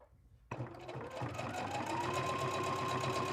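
A sewing machine stitches a quilt block, starting abruptly after a short quiet moment and then running steadily with a fast, even mechanical whir that stays loud and close to the end.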